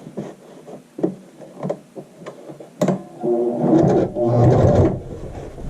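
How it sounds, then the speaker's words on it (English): A sewing machine stitches a lapped zipper seam with a short back stitch, starting with scattered soft knocks and then running in two louder, close mechanical bursts toward the end, with no talking. "I'm going to get right up to that seam. And I can do a little back stitch."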